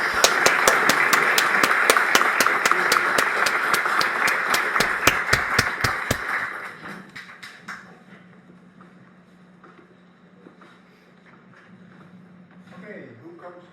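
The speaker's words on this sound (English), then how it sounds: "I would ask all of you to give a big applause for the work they've done over the last 10 years" Applause from an audience after a bachelor thesis presentation: dense clapping with sharp, fairly regular individual claps standing out runs for about six seconds, then fades into a quiet room with faint murmurs.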